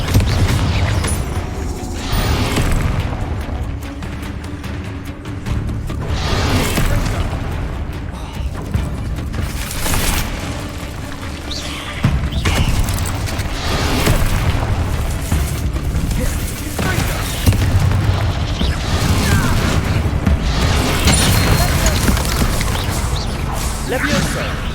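Confringo spell explosions in the Hogwarts Legacy video game crash repeatedly amid combat, loud booms and whooshing impacts landing at irregular intervals over a busy, constant battle din.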